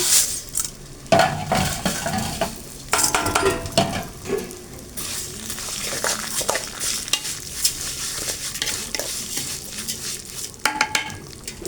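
Vermicelli frying in oil for Egyptian-style rice, with a soft sizzle under repeated clinks and scrapes of a spoon stirring against the pot, heard up close with no talking.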